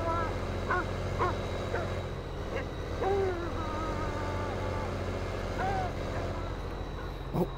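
Warbling, cuckoo-clock-like bird calls from a Farming Simulator logging map chirp repeatedly over a steady low engine drone, with faint talk underneath.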